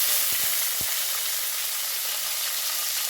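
Shallots frying in sesame oil in a kadai, a loud, dense, continuous sizzle with a few brief knocks near the start.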